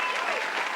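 Short burst of applause sound effect, a dense even patter of many clapping hands at steady loudness.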